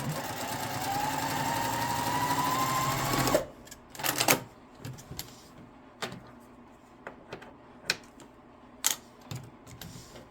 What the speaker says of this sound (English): Line the corners up, and then you're going to stitch with a 1/4 inch seam.